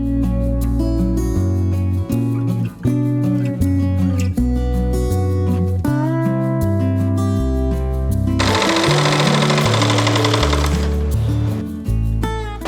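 A sewing machine stitches a strip of old cloth, its steady, loud mechanical chatter running unbroken under a layer of music, with a harsher buzzing stretch near the end.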